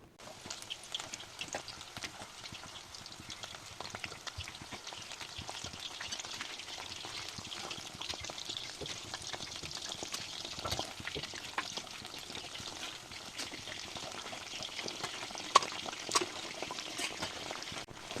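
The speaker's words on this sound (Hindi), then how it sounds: "तो देखिए ये अच्छे तरीके से फ्राई हो रहा है।" Mushroom pieces frying in a pan over medium heat, a steady close-up sizzle and crackle with occasional louder pops, running continuously with no talking.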